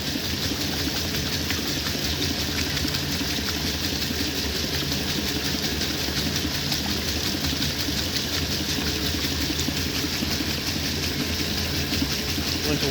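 A 1960 Frigidaire Custom Imperial Multimatic washing machine runs its rinse cycle, giving a steady, loud churning hum with rushing water and pump noise that holds without a break.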